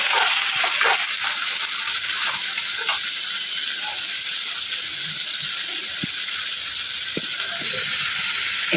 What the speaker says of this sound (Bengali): এখন আমি তেলের মধ্যে পেঁয়াজগুলো দিয়ে দিলাম, রসুন দিয়ে দিলাম, রসুনটা থেতো করে রেখেছিলাম।